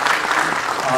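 Audience applause at a film launch during a creators' honour and release ceremony, steady dense clapping filling the moment, close and fairly loud throughout.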